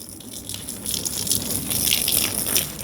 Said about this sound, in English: let's go ahead and hose it off and see if the mud just washes right off